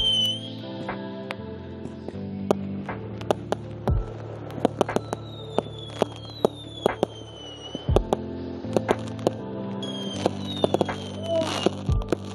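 Fireworks set off as a romantic surprise: repeated sharp cracks and pops scattered over about twelve seconds, with whistling rising streaks and a few deeper booms, moderately distant and fairly faint.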